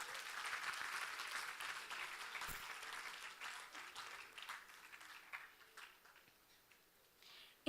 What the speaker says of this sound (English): Let us have a round of applause for our dignitaries.